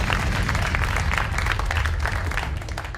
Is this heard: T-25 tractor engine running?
no